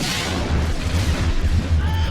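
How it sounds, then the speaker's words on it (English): An explosion on a ship landing platform in the Star Wars film Attack of the Clones booms out. It is followed by a sustained, rumbling roar with crackling debris that stays loud throughout. "Padme's double dies from the explosion"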